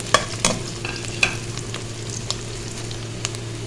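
Green chillies and ginger frying in a pan while cooking sarson ka saag, a close, fairly loud sizzle with a few sharp clacks of a spoon against the pan near the start and a low steady hum underneath.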